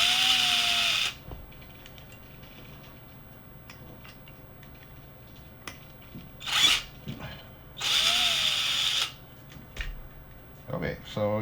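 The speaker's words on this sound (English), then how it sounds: "You can disassemble with the drill" A power drill disassembling parts during tire mounting whirs in two bursts of about a second each, separated by quiet handling noises and a brief voice.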